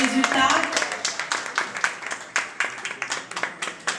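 Audience applause welcoming the contestants at a Miss Belle Kabylie 2017 pageant, a steady patter of many hands clapping in a hall, fairly close and continuous, with a voice briefly audible at the start.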